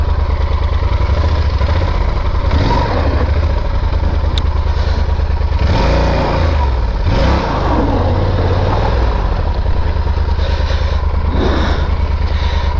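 A Yamaha Super Tenere adventure motorcycle idles and putters in first gear on an offroad creek crossing, its loud, steady engine drone close by with a few throttle swells and clattering bursts, no talking.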